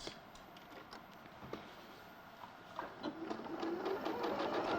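A sewing machine stitching quilt pieces for a block, its needle running in a quiet steady mechanical whir that picks up speed toward the end, heard close with no talk over it.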